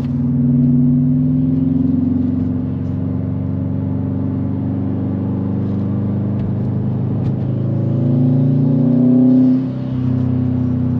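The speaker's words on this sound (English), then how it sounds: "that exhaust sounds fantastic" A 2020 Subaru WRX STI's engine and exhaust rumble loudly from inside the car with a low droning tone that rises and falls as it accelerates, with a brief whoosh where the blow-off valve vents.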